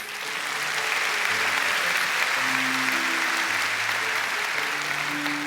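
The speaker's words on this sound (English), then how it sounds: "Would you join me in giving each of them a round of applause as I introduce them to you?" Audience at a school district opening event applauding as governing board members are introduced, dense sustained clapping close and loud from start to finish.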